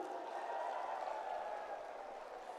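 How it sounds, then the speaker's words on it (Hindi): Faint, steady applause from a crowd at a political rally in Punjab, a continuous distant wash of clapping with no voices over it. "एक बार मैं तालियां चाहूंगा आपकी तरफ से भी"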